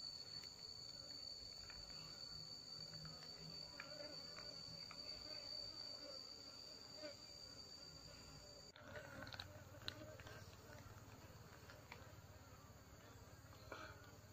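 A honey bee colony being calmed with smoke from a burning mosquito coil hums steadily at moderate distance, a dense, continuous buzz with a faint high whine above, and a soft knock partway through.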